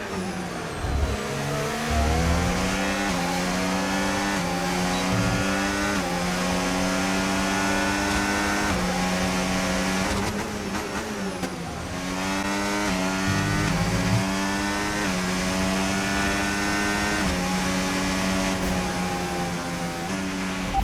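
Several F1 race cars in the F1 25 video game scream around the final lap, their high-pitched engines revving up and down continuously and loudly through gear changes, with no talking.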